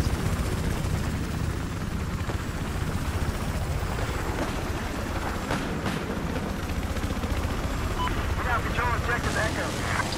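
A helicopter in Battlefield 4 multiplayer conquest, a constant loud rotor and engine roar mixed with game noise and distant gunfire.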